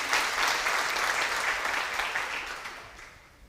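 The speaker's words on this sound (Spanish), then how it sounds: "vamos a dar una ofrenda de palmas" Church congregation clapping hands as an offering of applause during a service, a dense, loud burst of many hands that holds steady, then fades out toward the end.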